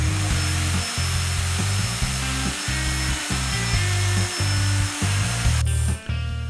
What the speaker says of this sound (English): The powerful Bosch electric chisel plowed through the natural travertine stone like a hot knife through butter.